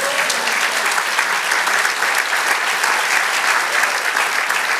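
Church congregation applauding together in a steady, dense wash of clapping that stays loud and even from start to finish.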